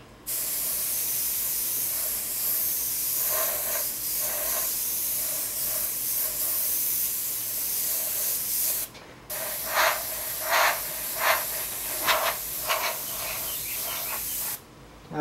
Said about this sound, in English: We're going to test our airbrush.